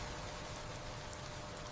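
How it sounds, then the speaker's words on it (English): Rain falling steadily in a forest, a soft, even wash of drops on leaves and ground, quiet and unbroken with no voices. "The rain continues"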